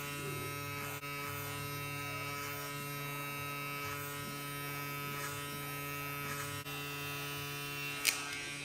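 Electric hair clipper buzzing steadily during a mid taper fade haircut, a continuous close electric hum with slight shifts as it moves through the hair and one brief click near the end; no talking.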